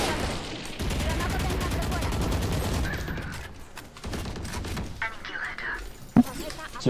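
Rapid bursts of automatic turret gunfire in a Free Fire or Fortnite video game, loud and continuous for several seconds, then tapering into scattered shots and thuds as voices talk over it.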